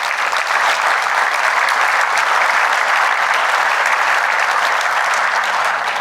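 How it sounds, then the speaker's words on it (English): Dense, steady audience applause at a ZertoCON keynote, loud and sustained throughout with no breaks. "Please give them an applause, Ahead."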